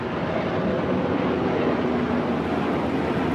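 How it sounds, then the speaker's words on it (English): Airplane passing overhead: a broad, steady roar fills the whole clip, loud and constant without a clear rise or fall, with no voices over it. "I'll let this plane pass."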